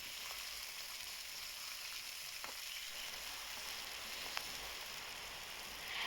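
Spices cook on low heat in a pan for a fish recipe with pangas, giving a soft, even sizzle with a few faint clicks of stirring and no talking.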